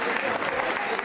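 An audience at a Jain Social Group quiz show claps in a dense, loud burst of applause, a short continuous patter of many hands.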